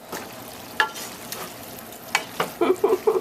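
Mushroom pasta sauce with onions and garlic stirred in a pan, a soft steady sizzle with a few scraping strokes and a quick series of spoon taps near the end, close up.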